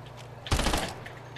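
A single short burst of gunfire in Fortnite, loud and sudden, then fading quickly against a low game background.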